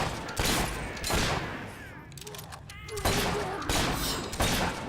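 Gunfire in the video game Fable III, with a few loud, sharp shots and bursts spread across the stretch alongside background game noise, while a voice talks in between.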